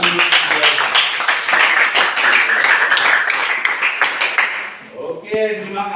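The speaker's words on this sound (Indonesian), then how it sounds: "Oke, tepuk tangan dulu" Classroom students clapping together in a dense, fairly loud burst that runs several seconds, then tapers off as a voice speaks near the end.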